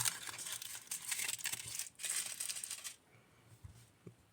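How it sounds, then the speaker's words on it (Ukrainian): A Kinder Surprise chocolate egg is unwrapped from its foil, giving close, faint crinkling and rustling in two bursts before a quiet pause with a couple of small taps. "Відкриваємо шоколад."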